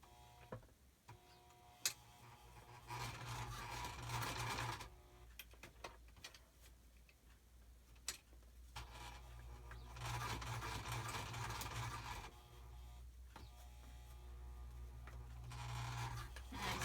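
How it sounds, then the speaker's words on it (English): A sewing machine runs in bursts while stitching lace onto a fabric tab, quiet and close, with short pauses between runs of rapid mechanical whirring and occasional clicks. "Sewing the lace onto the tab."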